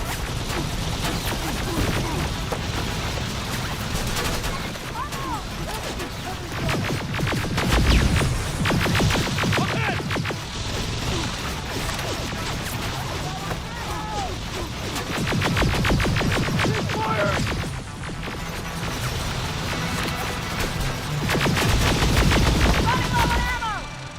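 Heavy gunfire from the video game Terminator: Resistance, with dense, rapid bursts of shots crackling almost without pause and swelling louder in several waves, with occasional voices underneath.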